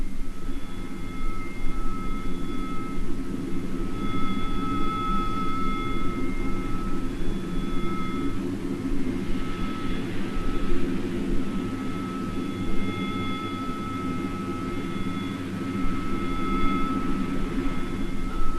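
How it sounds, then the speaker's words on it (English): Attacking military aircraft roar over Falkland Sound in 1982, a continuous heavy jet drone with faint high whines riding on top. No distinct blasts stand out. "film of planes being shot down on the same day"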